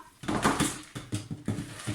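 Dishes and a pot clatter and clink in quick irregular bursts nearby, a few sharp knocks over a couple of seconds, as washed wheat goes into the pot in a kitchen.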